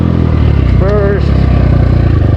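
SSR 300 dirt bike engine revving in first gear, a loud, rough mid-range drone with a brief rising whine in the middle, close by and continuous.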